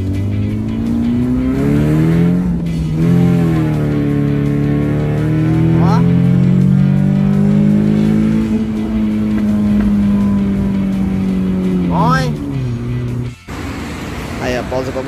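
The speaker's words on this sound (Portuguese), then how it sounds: "Vocês têm que ver o ronco disso." A Chevrolet Corsa Wagon with a naturally aspirated 16v engine revs loudly and steadily while driving, its pitch climbing and falling through gear changes, with a brief dip near the end.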